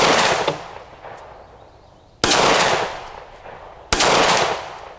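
Three loud, sharp pistol shots from a Sig Sauer P365 XL fired at an 80-yard target outdoors, each a sudden crack followed by a fading echo, spaced irregularly over a few seconds with no talking.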